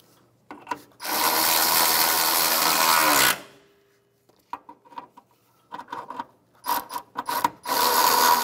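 Ratchet working on two 10 millimeter bolts of the radiator filler neck assembly on a 2011-2016 Hyundai Elantra: a long, loud buzzing whir, then scattered short clicking ratchet strokes and another whirring burst, close and alone.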